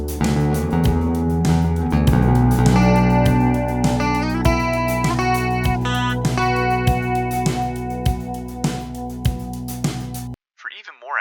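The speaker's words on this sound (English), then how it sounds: "Let's use the classic Dimension C chorus to give it some texture and space in stereo." Guitar strums through a classic Dimension C chorus effect, playing loud sustained chords with a wide, shimmering texture over a steady bass pulse and rhythmic percussive hits, then cutting off sharply near the end.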